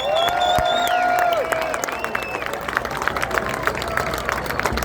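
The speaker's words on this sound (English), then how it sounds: "Give yourselves a round of applause." Crowd at a reparations rally in Washington DC applauding and cheering, loud whistles and shouts over continuous clapping that settles into steady claps, with outdoor crowd noise.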